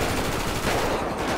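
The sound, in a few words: gunfire in the video game GTA5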